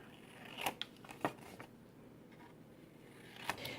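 Scissors make a few short, faint snips while mitering the edges of a paper pocket for a scrapbook mini album, with light paper rustles between the cuts.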